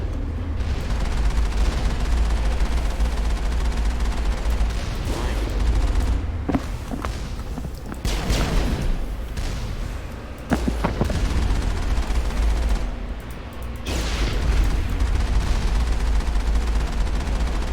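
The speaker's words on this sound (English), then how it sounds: "Why is the turrets shooting you?" Turrets firing in the video game Mass Effect, a loud, continuous barrage of gunfire with booming impacts over a thick roar, barely easing for the whole stretch.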